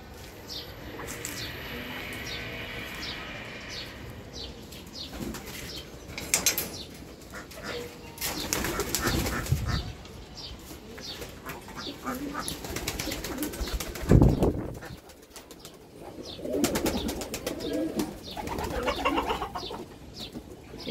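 Pigeons on a rooftop farm with ducks and chickens, soft cooing and chirps with several bursts of wing flapping, fairly close but quiet, no speech.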